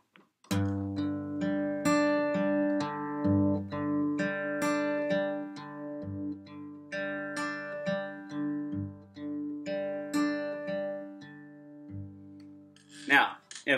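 Beginner finger-picking pattern on acoustic guitar strings, single notes plucked one after another in a steady, even rhythm over ringing bass notes, close and clear with no talking.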